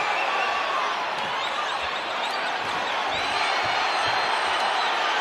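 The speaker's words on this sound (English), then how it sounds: "Possum or not, the crowd is loving this." A boxing arena crowd at the Jose Ramirez vs. Rances Barthelemy fight keeps up a loud, steady roar of cheering throughout, with scattered whoops rising out of the wash of noise.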